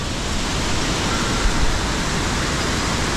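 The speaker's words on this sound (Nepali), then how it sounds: "यो झरनामा चाहिँ होइन साँच्चै नै वाउ भन्ने खाले झरना हो क्या।" A powerful waterfall on the Annapurna Base Camp trek in the Himalayas roars as a steady, loud, dense rush of falling water, close and continuous throughout, with no voices.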